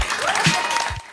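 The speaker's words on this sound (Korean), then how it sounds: "당원들이 환호하고 바이든 부부 뒤로 손주들이 폭죽을 터뜨립니다" Party members cheer and applaud as a presidential nominee is announced, a short burst of crowd clapping and shouting mixed with a voice over a loudspeaker.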